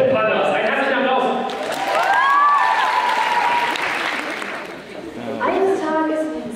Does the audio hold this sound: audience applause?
yes